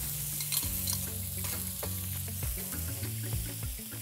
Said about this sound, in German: Wenn die dann glasig angeschwitzt sind, kommt auch gleich der Knoblauch dazu.